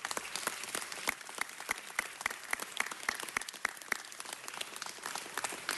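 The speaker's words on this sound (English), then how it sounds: "Let's give them all a round of applause" Applause at a Los Angeles city council meeting: a fairly faint, even rattle of many hands clapping from a seated audience, sustained throughout without talk.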